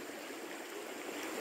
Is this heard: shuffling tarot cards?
no